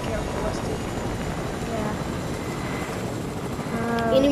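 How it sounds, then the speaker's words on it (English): A video game helicopter gives a steady, loud rotor and engine rumble with a choppy texture throughout, with people talking over it. "This helicopter's about to blow up."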